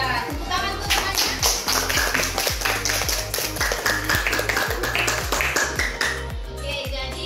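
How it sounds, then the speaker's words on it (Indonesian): Schoolchildren in a classroom clap in a steady rhythmic beat for a classmate, loud and close, with the pattern continuing for several seconds. "tepuk tangan untuk temannya."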